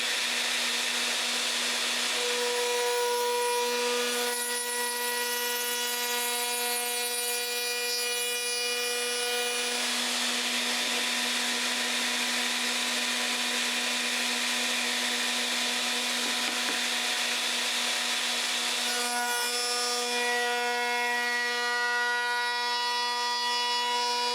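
Power saw cutting wood for a box base, a loud sustained whining tone throughout, rising in pitch as the blade spins freely near the start, middle and end, steadier while in the cut.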